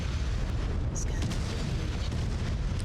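Artillery fire in the mech combat game MechWarrior, heard as dense, continuous low rumbling booms with the impacts blurring together and no gaps between them.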